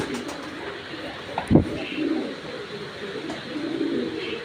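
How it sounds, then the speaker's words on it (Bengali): Foreign-breed pigeons coo softly indoors in a low, throaty burst, close by, over a steady background hiss while a storm blows outside, with a faint voice nearby. "এই যে বিদেশি কবুতর একটা জিনিস ভালো"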